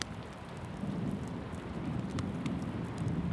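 Rain falls steadily in a rainstorm outside a cabin, a soft, even hiss with scattered drops and a low rumble underneath, faint and unbroken for a few seconds.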